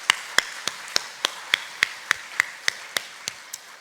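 A small church congregation claps for the ministry team during a Sunday morning service, a slow, steady run of about thirteen sharp, distinct claps evenly spaced, close and fairly loud with no talk over them.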